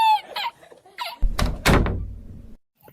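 A door being opened in a cartoon comedy scene: after some brief voice sounds, a solid wooden thunk and a rattling creak follow, loud and close, then silence.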